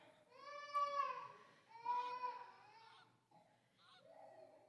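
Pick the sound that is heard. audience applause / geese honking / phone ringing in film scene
geese honking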